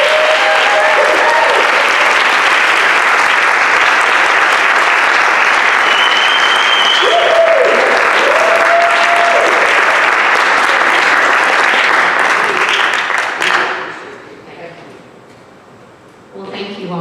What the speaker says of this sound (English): Please help me give a rousing round of applause to Leigh Burns.